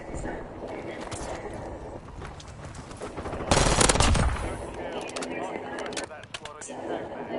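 Gunshots in a shooter video game crackle under game audio, with a louder burst in the middle and scattered shots after, while voices talk over the action.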